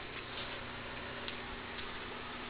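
A Whelen Ultra Freedom lightbar's strobes give faint, rapid, regular ticking over a steady background hum.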